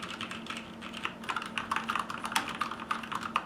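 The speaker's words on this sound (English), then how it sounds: "gives you an idea of how hollow sounding this keyboard is" Typing on a Corsair K70 LUX RGB mechanical keyboard fitted with brown switches and O-ring dampers, a close, steady patter of hollow-sounding keystrokes with no voice over it.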